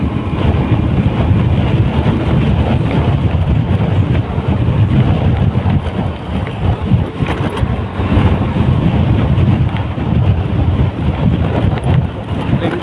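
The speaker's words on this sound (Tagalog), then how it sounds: "sarap din ang hangin" Strong, continuous wind buffeting the microphone with a low rumbling roar, steady throughout and no speech heard.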